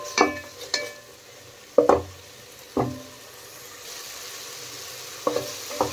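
Chopped tomatoes and onions being sautéed in a pan, with a soft continuous sizzle broken by several sharp knocks and scrapes of a spoon stirring against the pan.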